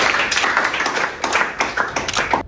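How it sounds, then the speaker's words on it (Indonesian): A room of people clap their hands together in a dense, steady burst of applause lasting a couple of seconds before cutting off abruptly, heard up close with no talking over it. "Tepuk tangan dulu biar nggak tegang saya."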